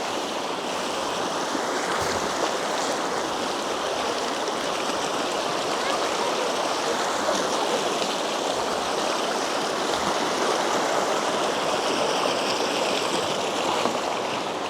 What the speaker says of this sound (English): A very small stream.